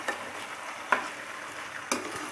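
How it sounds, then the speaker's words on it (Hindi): Potatoes and peas frying over high heat for aloo matar, with a steady sizzle and three sharp scrapes of a spatula stirring them in the pan, close and alone. "आलू गोल्डन फ्राई होने तक पकाने तक हमें इसको चलाते रहना है।"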